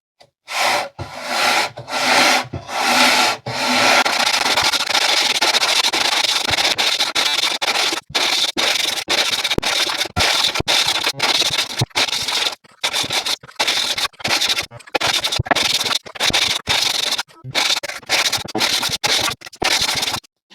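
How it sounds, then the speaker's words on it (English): A wooden board scrubbed back and forth over a 60 grit sandpaper sanding block in a garage during an electric bass guitar build, steady close rasping strokes in repeated bursts separated by brief pauses. "So I just got done rubbing this board all over my screen door sanding block"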